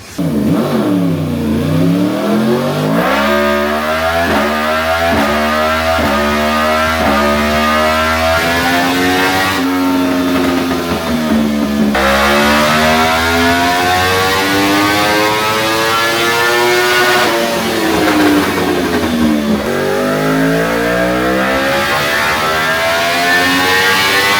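A 2022 Yamaha R1 sport motorcycle with an SC-Project SC1-R exhaust revs loudly and continuously on a dyno, rising in pitch through repeated sweeps as it winds up, drops back, and climbs again, close and sustained.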